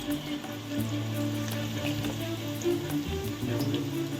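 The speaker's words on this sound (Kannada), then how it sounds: "ಈಗ ಕಬಾಬು ಚೆನ್ನಾಗಿ ಫ್ರೈ ಆಗಿದೆ" Chicken kebab fries in hot oil with a continuous crackling sizzle at moderate volume and occasional louder pops, close by and without talk.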